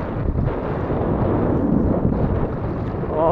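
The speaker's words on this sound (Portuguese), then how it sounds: "Olha a ventania." Strong wind roars across open water on a fishing trip, a loud continuous rushing buffet against the microphone that swells and eases without pause.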